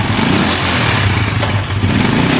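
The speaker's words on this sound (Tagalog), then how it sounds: "Nandito na yung motor ko." A motorcycle engine runs close and loud, a steady rough idle with a continuous low rumble throughout.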